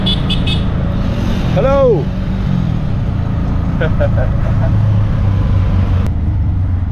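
Auto rickshaw riding through busy Sri Lankan city traffic: a steady, loud engine drone and road rumble throughout, with a car horn toot partway and a brief spoken greeting.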